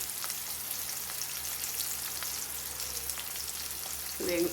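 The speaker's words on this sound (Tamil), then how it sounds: "வெங்காயம் வதங்கட்டும்." Shallots and curry leaves frying in oil for a dry fish roast, a steady soft sizzle with faint crackles throughout, ending in a brief louder clatter near the close.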